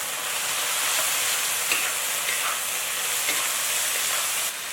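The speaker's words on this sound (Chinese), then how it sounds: "翻炒几下" Shredded radish, green pepper and pork stir-fried in a wok, a loud, dense, steady sizzle with faint stirring scrapes underneath, heard alone without speech.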